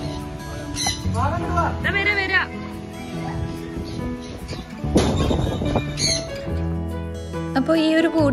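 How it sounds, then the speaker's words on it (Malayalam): Small birds chirp and whistle inside an aviary cage at a park on a vacation outing, bright repeated calls close by, with people talking throughout. "അപ്പോൾ ഈ ഒരു കൂട്ടിൽ കുറേ കിളികളുണ്ട്."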